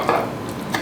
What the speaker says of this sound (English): And I mix this with the cold juice.